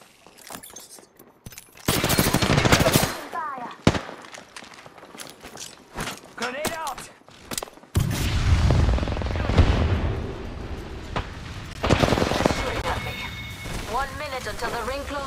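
Apex Legends gunfire: bursts of rapid shots and impacts cutting in and out among footsteps and game effects, loud and close, with in-game voice callouts heard between them.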